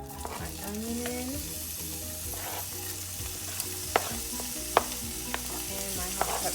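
Chopped onion and hot pepper sizzling steadily in a hot frying pan, a continuous close frying hiss with a few sharp clicks of utensils, while a voice and faint tonal background sounds run underneath.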